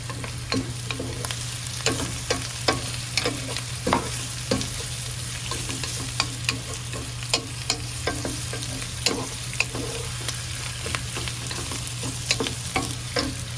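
Beef for kare-kare sizzles steadily as it is sautéed in a pan, with repeated close scrapes and clacks of a utensil stirring the meat at an uneven rhythm throughout.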